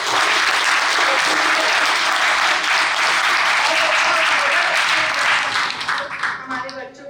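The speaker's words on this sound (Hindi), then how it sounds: "पुनः हम जोरदार ताली से" A university audience at Devi Ahilya Vishwavidyalaya, Indore, breaks into loud, dense applause that holds steady for several seconds before tapering off near the end.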